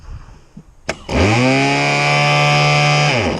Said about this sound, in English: I don't choke them or anything with electric start. I just run it till it goes, and it's usually fine.